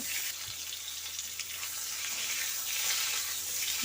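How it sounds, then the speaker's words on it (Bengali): Raw mango pieces frying lightly in oil tempered with black mustard seeds, a quiet continuous sizzle with soft crackles and faint stirring, no talking. "দিয়ে আম হালকা করে ভেজে নেব"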